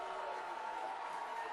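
Football fans at Carson Park, watching UW-Eau Claire against No. 9 Saint John's, cheering in a steady, distant crowd roar that holds through the whole moment without individual voices standing out.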